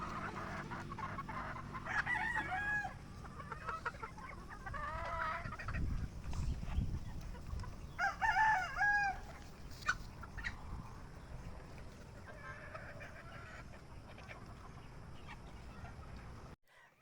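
A flock of chickens clucking and calling in a farm's range area at feeding time, over a steady background hum, with bursts of louder squawking chatter coming and going.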